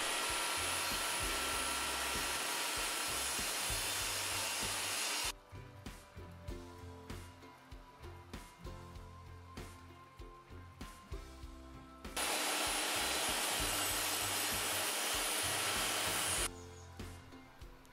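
A Bosch GTS 10 XC table saw runs with a loud, steady high-pitched whine during a test cut through wood. It drops away to quieter handling noises, then roars up again for a second burst.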